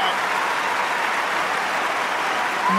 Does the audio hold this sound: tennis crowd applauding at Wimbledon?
yes